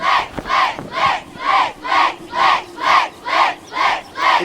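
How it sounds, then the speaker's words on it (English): A crowd of fans gathered outside a hotel chants in unison, nine loud rhythmic shouts at a steady pace, many voices together and fairly close. "Lex wakes to a crowd of fans outside the hotel"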